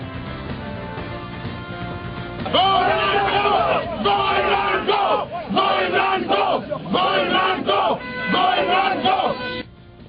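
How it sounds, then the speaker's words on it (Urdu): Political rally crowd in Peshawar chanting 'Go Nawaz Go', rhythmic shouted slogans from many voices starting after a quieter murmur and repeating in loud bursts. "آج جب خان صاحب پشاور میں پہنچے تو بہرحال گو نواز گو کے نعرے لگ گئے۔"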